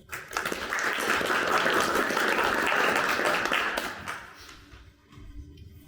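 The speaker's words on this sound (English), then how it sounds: "Please give them a round of applause" Sustained applause from a sizable crowd at a primary election candidate forum, steady and full for about four seconds, then tapering off into scattered claps.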